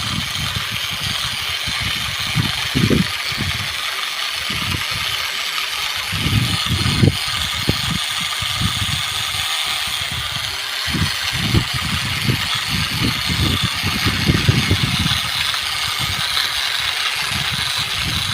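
A homemade mini tractor engine runs loudly and continuously, a rough rattling idle with repeated low throbbing surges, close and without talk.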